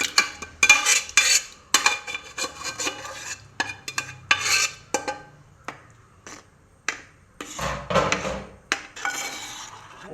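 Jackfruit payasam with cooked sago stirred in a pot, a ladle scraping and clacking against the metal in a quick irregular series of sharp strokes, fairly close and with no talk.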